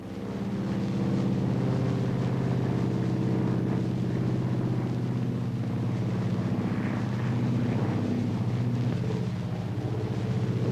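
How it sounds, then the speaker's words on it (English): An airplane engine drones continuously in flight in a 1947 film scene, a steady loud low rumble with a propeller-like hum and no speech over it. "They've got a new contraption. They call it the airplane."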